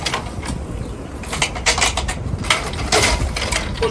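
A REID Porta Gantry lifting frame is put together by hand: nuts are hand-tightened on height-adjustable bolts and push pins are fitted, giving close metallic clanks, rattles and scrapes in irregular bursts.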